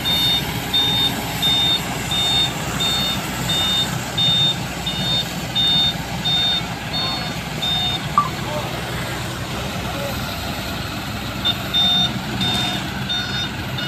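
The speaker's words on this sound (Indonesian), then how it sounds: "Nah ini mobil truknya." A truck moving tree trunks sounds a steady series of high reversing beeps over a rumbling engine and outdoor background noise, with voices heard intermittently.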